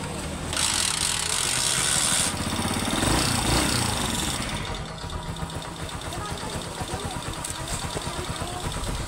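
A Honda TMX Alpha 125 motorbike engine idles steadily nearby with a rough, pulsing putter, a brief hissing burst near the start, continuing without any talk.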